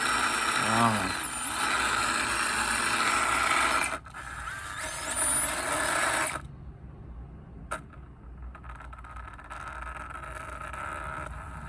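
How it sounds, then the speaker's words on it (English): A brushless RC crawler motor whines and squeals through a noisy transmission, loud and steady for about six seconds, then drops to a fainter mechanical hum. "I told you that transmission is noisy. Some of that's the squealing's the motor"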